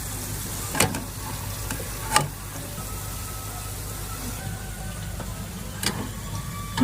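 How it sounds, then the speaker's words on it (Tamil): Gulab jamun dough balls fry in hot oil with a soft, steady sizzle, broken by a few sharp clicks and taps of a utensil against the pan, quiet and close with no voices. "குலாப் ஜாமுன் பொரியுது இப்ப நல்லா பொரிஞ்சு வந்துட்டு"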